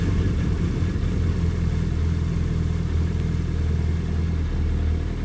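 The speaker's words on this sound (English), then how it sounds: "Okay, let me just start the bike." A Suzuki Hayabusa GSX1300R motorcycle engine runs at a steady idle after starting, a loud, continuous low rumble close by with no voices over it.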